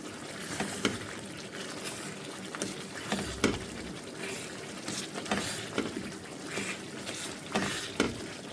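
Multani sohan halwa is roasted and stirred in ghee, giving soft, irregular scraping and sizzling with periodic spoon strokes at a steady, unhurried pace, close and fairly quiet.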